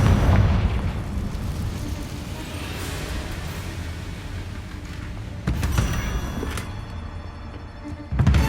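Confringo explosion spell in Hogwarts Legacy, a dense, loud stretch of rumbling blasts and booms, with sharper bursts striking near the five-and-a-half second mark and again at the very end.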